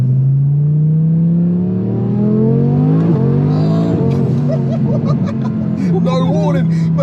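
Engine of a 1400HP twin-turbo Audi R8 droning steadily and rising in pitch under acceleration, with sharp turbo wastegate chatter and flutter bursts near the end, close and loud inside the car while people talk and laugh over it.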